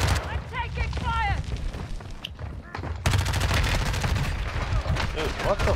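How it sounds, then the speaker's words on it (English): Rapid gunfire in Warzone 2 on Ashika Island, dense bursts of automatic shots and sharp cracks throughout, with players talking over the shooting. "I'm taking fire."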